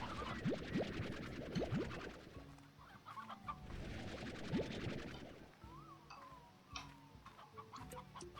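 Chickens cluck repeatedly in the video game Slime Rancher, with short rising squawks near the start and scattered softer clucks against a busy game soundscape of chimes and tones.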